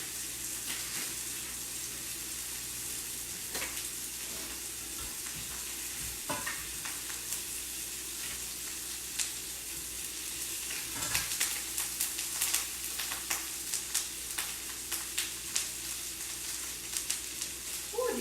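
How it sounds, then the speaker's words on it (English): Chicken pieces on an air fryer tray for keto chicken parmesan, sizzling and crackling steadily at low volume, with a few sharper pops and clatters toward the end. "Ooh, do you guys hear it sizzling?"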